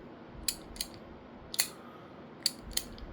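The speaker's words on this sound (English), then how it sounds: "It just slides out and pushes back in, and it's got that throwing card action" A small fidget toy with a sliding peg gives sharp clicks as the peg slides out and pushes back in, about six distinct close clicks spaced irregularly over quiet background.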